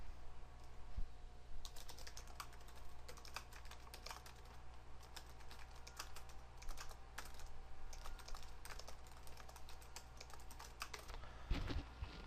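Quick bursts of typing on a computer keyboard as a short website description is entered, soft irregular key clicks pattering continuously at close range over a quiet room.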